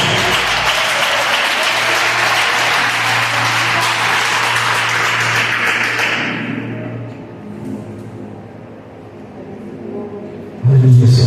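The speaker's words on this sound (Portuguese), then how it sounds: "dá um aplauso ao nosso Deus" Church congregation applauding after being asked to stand and praise God, steady loud clapping for about six seconds that then fades into quieter room noise with a low hum, a thud near the end.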